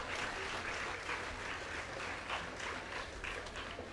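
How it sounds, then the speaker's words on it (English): A crowd at a national school STEAM fair claps and applauds steadily for the judges, a dense, even wash of hand claps with no pauses, fairly distant and moderately quiet. "please give the judges who worked so hard a round of applause"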